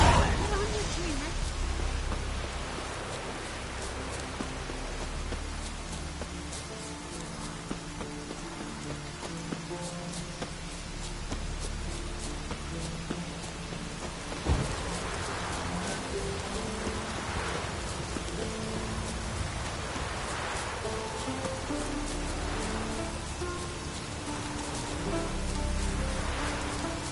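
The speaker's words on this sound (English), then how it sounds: "It's raining." Rain and distant thunder in a PS4 video game form a steady rainfall hiss with a few low rumbles, while game voices and sounds play over it.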